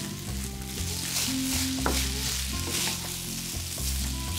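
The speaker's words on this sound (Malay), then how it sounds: "Goreng beras dalam 3-4 minit." Rice grains fry in hot oil with softened onion and crisped spices in a pan for a Malaysian spiced beef rice dish, giving a steady close sizzle with occasional stirring scrapes and no voices.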